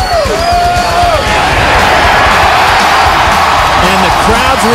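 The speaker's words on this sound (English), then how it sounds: "And the crowd's reaction says it all." A stadium crowd at a 2009 college football game between Montana and Appalachian State roars and cheers after a touchdown. The noise is loud, dense and sustained, with yells and whoops rising out of it throughout.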